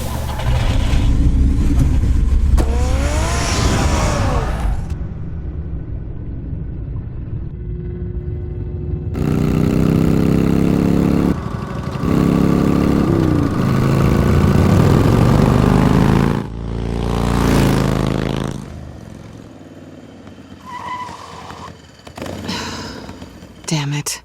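A car engine in the video game Batman: The Telltale Series hums and revs through a long stretch, steady mid-level drone shifting between segments amid music and speaking voices.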